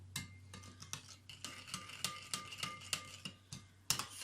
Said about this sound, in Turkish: Öncelikle bir kaşık yardımıyla karıştırıyoruz.